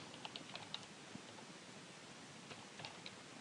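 Light clicks of typing on a computer keyboard, faint and sparse with a few scattered keystrokes over a quiet background hiss.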